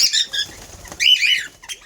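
Pet parrots in an aviary, bursts of close, sharp chirping calls mixed with a quick flutter of wings, loud and near in two short clusters.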